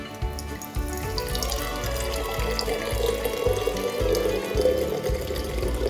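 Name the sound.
soda water being poured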